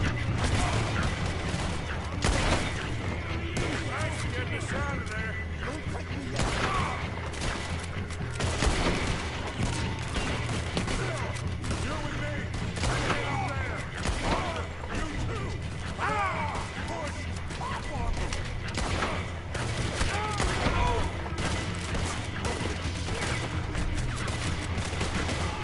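Gunshots ring out during a Red Dead Redemption 2 shootout, repeated reports and mechanical gun clicks scattered over a steady dense game soundscape with music, continuing for the whole stretch.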